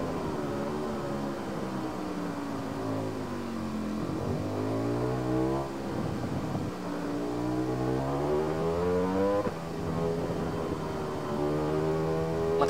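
A Kawasaki motorcycle from around 2019 revs in the RiMS Racing game, its loud engine note climbing and dropping in pitch through repeated accelerations and gear changes with no talk over it.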